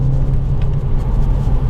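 A REVO-tuned 300 PS VW Golf GTI Edition 30 climbs a steep mountain pass, its engine holding a steady, loud low drone with dense road roar, heard from inside the car with no talking.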